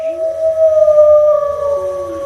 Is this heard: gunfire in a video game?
no